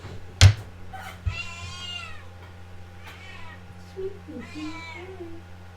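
A pet cat meows in two drawn-out calls, fairly close and clear, with a sharp knock beforehand and a person speaking briefly in between.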